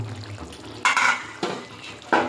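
A spoon stirs papaya curry in a cooking pan, giving three bursts of scraping and bubbling splash against a low background hiss.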